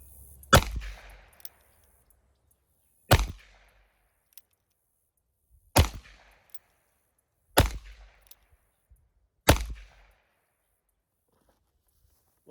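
Five sharp gunshots from a Ruger Old Model Vaquero revolver in .45 Colt, fired singly at roughly two-second intervals with short decays and quiet pauses between them, aimed at a steel plate target outdoors.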